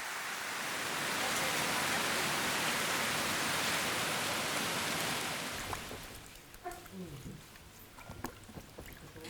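Heavy rain in a coastal valley of Papua pours as a loud, dense, steady hiss for several seconds, then drops off to a quieter patter with scattered knocks.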